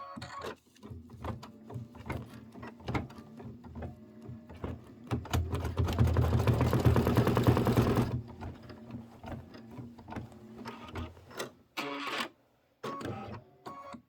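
A home embroidery machine stitching a placement line through wash-away stabilizer, with rapid rhythmic needle chatter that swells into a loud, dense run, then stops and starts in short bursts.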